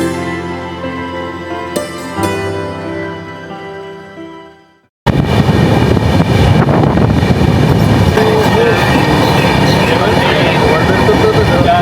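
The Kanchan Kanya Express runs through the Dooars forest, a loud continuous rumble of wheels and carriages that rises after a sudden break, with people talking underneath.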